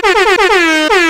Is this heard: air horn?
yes